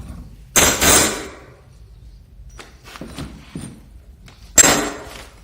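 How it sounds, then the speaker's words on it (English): Sharp metallic impacts and scraping, two loud bursts with quieter clinks and knocks between, as nails are pulled from wall studs with a hammer, up close. "You can do that with a crowbar or a hammer, but pull these nails out."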